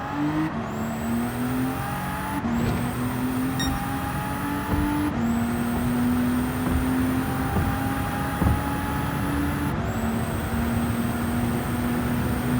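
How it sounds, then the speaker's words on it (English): An Aston Martin racing car engine in Gran Turismo 7 revs up and short-shifts several times in a row. The pitch climbs steadily, then drops sharply at each shift, loud and close. "Short shifting is an essential part of this car's fuel efficiency"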